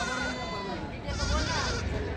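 Osmanabadi goats bleat at a busy livestock market in Maharashtra, with several wavering, nasal cries overlapping close by against crowd murmur.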